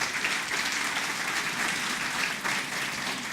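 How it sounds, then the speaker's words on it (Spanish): An audience at a talk gives a round of applause for a man named Marco, a dense and steady wash of clapping across the whole stretch with no voices. "yo quiero un aplauso para Marco"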